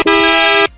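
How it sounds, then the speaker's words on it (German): A car horn sample fired from a Roland SP-404 MK2 sampler, one loud, steady, nasal honk lasting just over half a second, heard alone before cutting off abruptly. "Jetzt wollen wir nochmal die Hupen hören, weil Hupen können wir abspielen."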